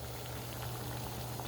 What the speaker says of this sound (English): So I'm gonna let it simmer for a little while longer